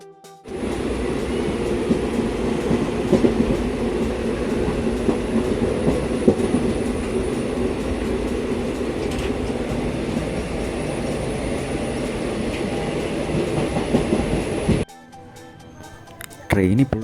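Indian Railways train running along the tracks toward Kannur, a steady, loud rolling rumble with rail clatter sustained for about fifteen seconds, then dropping away abruptly.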